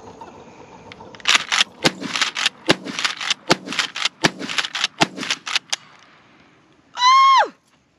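Kel-Tec KSG dual-tube 12 gauge bullpup shotgun fired outdoors in a rapid string of about a dozen sharp, loud blasts with short pauses between them, followed by a brief rising-and-falling whistle-like cry.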